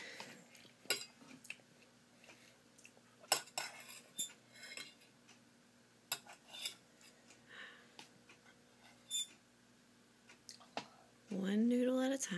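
A fork clicks and scrapes against a plate as a child eats noodles, with sharp scattered taps and scratches and a brief louder clatter near the end, amid a quiet room with faint voices.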